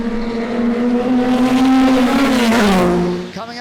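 A Lotus 15 race car is driven hard at the Goodwood Revival. The engine howls loud and close, holding a steady high note before the pitch falls and rises again through a gear change, with no voices.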